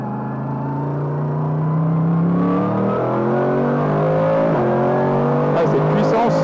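A GT3 race car engine revving on a circuit, pitch climbing in a long smooth sweep with harmonic whine, dipping briefly at a gear change and rising again, loud and close, with faint talk mixed in.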